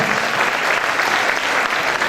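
A crowd applauds Ana do Teo Vivo at the Festeo 2020 Cantateo gathering, with dense, steady clapping that holds at full strength throughout.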